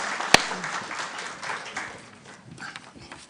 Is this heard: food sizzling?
no